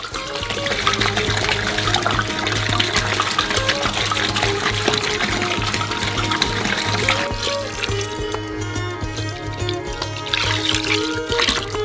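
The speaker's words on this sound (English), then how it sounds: "When everything is stirred really well, pour in the remaining water." Water pours and splashes steadily into a basin of mixed powders, then the flow thins into a lighter trickle before surging again near the end.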